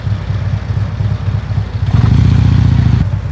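Harley-Davidson Road Glide engine idling low and steady during a slow U-turn with the clutch disengaged, a close, even rumble that thickens slightly toward the end without revving.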